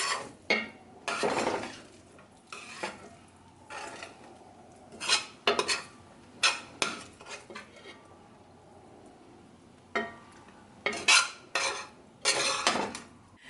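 Metal utensils scrape and clink against a plate and pan while mushroom and butternut squash risotto is plated, in sharp irregular bursts separated by quiet pauses, close and fairly loud.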